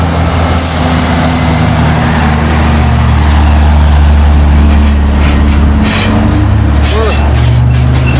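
A Hino trailer truck passes on a road, its heavy engine droning loud and close with steady low rumble and shifting tones, and an air-brake hiss near the end.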